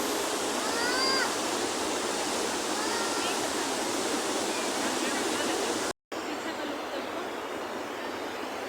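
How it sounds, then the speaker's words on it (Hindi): Loud rushing river water in Manali, India roars continuously, like a torrent or waterfall close by, with a brief cut partway through. "शोर इतना ज़्यादा है पानी का कि कुछ सुन भी नहीं रहा।"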